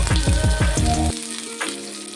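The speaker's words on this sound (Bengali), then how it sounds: "তেলটি গরম হয়ে গেছে, দিয়ে দেবো কয়েক কোয়া রসুন, দেবো কয়েকটা শুকনো লঙ্কা, দেবো কয়েক টুকরো আদা, আর দিয়ে দেবো পেঁয়াজ।" Garlic, dried chillies, ginger and onion hit hot oil with a loud, close hiss that settles into a steady crackling fry, a fresh flare of sizzling rising partway through.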